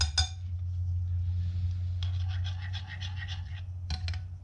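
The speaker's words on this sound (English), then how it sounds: "I'm just vigorously stirring" Vigorous stirring of melted caramel mixed with heavy cream, a spoon scraping and clinking against the bowl in a steady burst, over a low kitchen hum.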